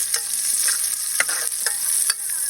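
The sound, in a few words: shallots frying in hot oil with garlic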